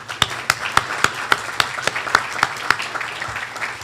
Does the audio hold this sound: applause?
yes